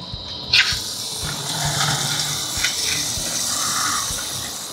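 Water sprays steadily onto tumbled rocks as they are rinsed down, a continuous close hiss with small splashes and spatters running throughout.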